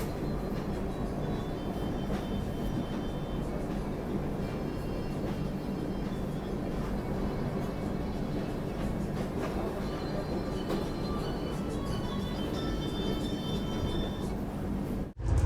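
Heard from inside a first-class AC coupe, the Prayagraj Duronto Express rolls along with a steady, dense rumble and rattle of wheels and carriage. It is continuous and moderately loud for about fifteen seconds.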